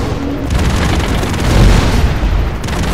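Heavy, booming bomb blasts in the side-scrolling action game Broforce, rolling together into a loud continuous rumble with chaotic pops and bursts of gunfire layered on top, no talk.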